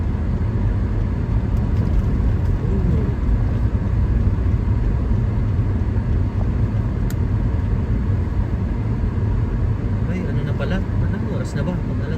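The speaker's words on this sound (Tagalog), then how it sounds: "Busy na ang kalsada." A busy road in Canada gives off a constant, dense low rumble of passing cars and engines, loud and unbroken throughout, with muffled talk over it.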